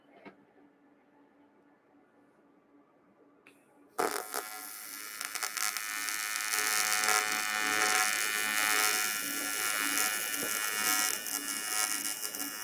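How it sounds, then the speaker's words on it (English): Arc welding on a cast aluminum Yamaha four-wheeler swingarm, opening with quiet handling noises, then a loud, steady crackling buzz that starts abruptly and holds for several seconds, close and without talk. "this Yamaha cast aluminum has been welding really nice for me so far"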